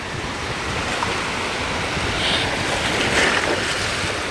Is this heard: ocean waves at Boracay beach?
yes